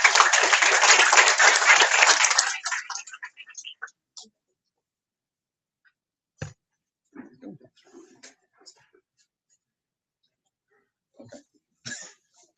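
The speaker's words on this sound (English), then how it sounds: "So if you guys will give a round of applause to Mitchell." Audience applause greets a guest speaker at an association meeting, a dense burst of clapping for about two and a half seconds that quickly dies away, followed by scattered coughs, throat clearing and faint murmurs in a quiet room.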